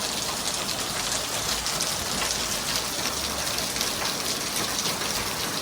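Steady, dense rain falls continuously at a constant loudness, forming a close wash of water noise with no voices.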